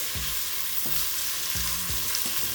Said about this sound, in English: When they stop sizzling, you can stir them again.